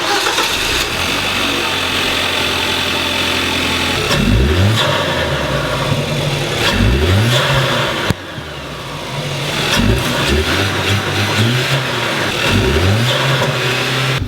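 A Kia Optima SX fitted with a new aftermarket intake starts up, then settles into idle, broken by several sharp, loud revs that rise and fall in quick bursts.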